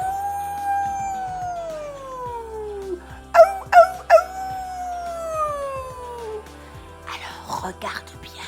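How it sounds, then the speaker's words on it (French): A wolf howls in long, smooth drawn-out tones, two sustained howls sliding downward, broken by a few sharp yips, with brief speech near the end in a children's cartoon setting. "Ou encore le loup?"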